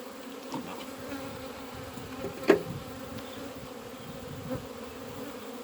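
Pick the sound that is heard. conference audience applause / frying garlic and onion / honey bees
honey bees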